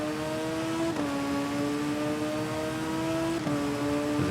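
A racing motorcycle at full throttle in the TT Isle of Man game gives a loud, steady, high-pitched engine whine that rises, drops briefly at two gear shifts and climbs again.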